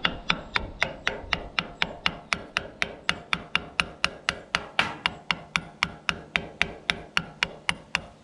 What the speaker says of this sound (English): So I think we should be able to tap this down on here.